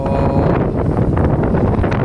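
Strong wind buffets the microphone, a loud, rough roar with gusty fluctuations throughout, at a ship's cargo hold after discharging.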